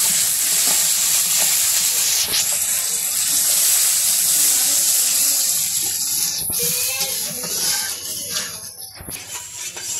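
Food sizzles steadily in hot oil in a pan in a simple village kitchen, with a loud, continuous frying hiss and repeated scraping stirs running through it.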